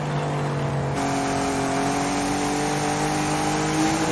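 BMW race car in a racing video game, its engine holding a steady high-revving drone with a brief gear shift about a second in, the pitch then climbing slowly and smoothly.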